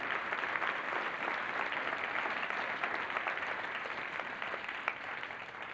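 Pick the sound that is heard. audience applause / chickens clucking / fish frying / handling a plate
audience applause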